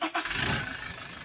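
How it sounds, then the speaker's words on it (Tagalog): A Toyota Innova diesel engine cranks briefly and catches, settling into a steady close-up rumble within about a second. "pwede nyo na ngayon pa-start itong makina"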